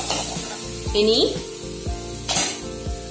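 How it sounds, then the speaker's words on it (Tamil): Chopped onions sauté and sizzle in a pan while cooking a tomato-onion paratha filling. A steady close frying hiss carries scrapes and light clinks of stirring, with a brief voice speaking. "வெங்காயம் இந்த அளவு வதங்கினா போதும்."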